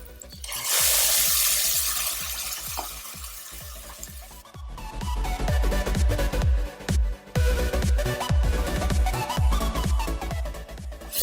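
Ground tomato and onion paste sautéing in a pan for Chettinad mutton kulambu, a steady close sizzle with repeated stirring scrapes and clinks throughout.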